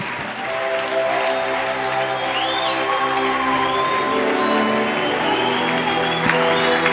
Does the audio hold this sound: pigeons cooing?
no